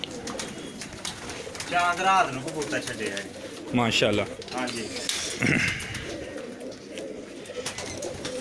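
Pigeons kept on a rooftop loft during a pigeon-flying tournament in Sialkot, with bird calls and coos scattered among ongoing men's conversation that stays prominent throughout.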